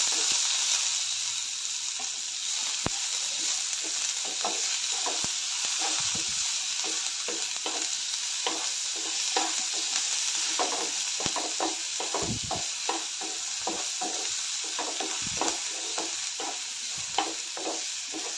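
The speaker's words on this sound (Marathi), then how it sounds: "त्यामध्ये आता मिरची, कांदा, कढीपत्ता घालते. 1-2 मिनिटं भाजून घेऊया." Green chili, onion and curry leaves fry with cumin in hot oil, a steady bright sizzle broken by repeated scraping stir strokes, close and even throughout.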